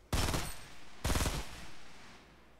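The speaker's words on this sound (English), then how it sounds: "I want to get him with this minigun." Two loud bursts of Fortnite minigun fire, each a dense rapid rattle about a second apart, close and alone, with a lingering decay after the second.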